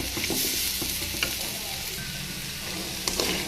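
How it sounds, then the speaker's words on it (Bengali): Papaya and Malabar spinach leaves fry in oil in a pan, giving a steady, close sizzle with a few light stirring scrapes and no voices. "আর এদিকে আমার পেঁপে ভাজি কিন্তু প্রায় হয়ে গেছে।"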